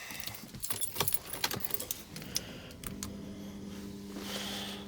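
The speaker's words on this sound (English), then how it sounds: "So there's some keys." Audi RS4 car keys jangling close by, a run of bright metallic clinks and rattles that settles into quieter handling noise.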